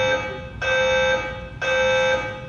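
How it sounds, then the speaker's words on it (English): An apartment building fire alarm going off indoors, a loud, harsh electronic tone sounding in repeated long bursts with short gaps between them, continuing across the whole stretch. "fire alarms have been going off on my floor once to twice a week."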